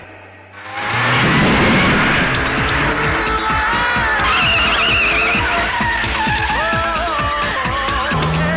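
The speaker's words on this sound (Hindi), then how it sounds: "राम सिंह, गाड़ी लाओ।" A car arrives with tires skidding and squealing, the loud screech starting abruptly and carrying on under a roaring engine for several seconds before easing off.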